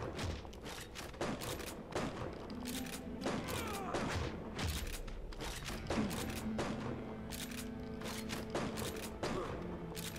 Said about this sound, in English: I just shot my shotgun over and over again.